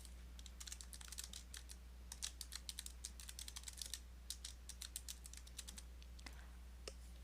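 Fingers type on a computer keyboard, a quick irregular run of light key clicks close by over a low steady hum, with no one speaking.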